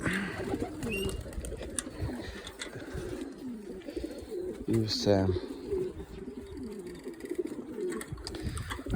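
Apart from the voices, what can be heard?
pigeons cooing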